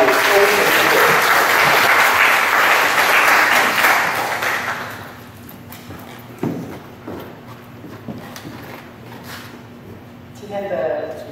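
An audience at a book launch discussion applauds to welcome a guest, a loud dense burst of clapping lasting about five seconds, then dying away to scattered sounds and a few faint voices.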